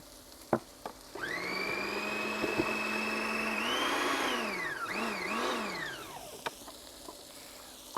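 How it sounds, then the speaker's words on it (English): Food processor blitzing a beetroot and mushroom plant-based burger mix, a steady loud motor whine running for about five seconds with pitch dips as the load shifts, then spinning down. "I always love using food processors when you're on telly."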